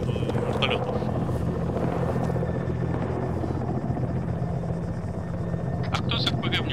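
Rotor thump and engine whine from a hovering helicopter in the ArmA 3 military shooter game, a steady low drone running throughout, with voices talking over it.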